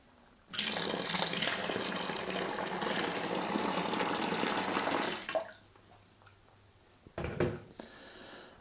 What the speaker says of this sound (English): I'm going to add the rest of the kettle of water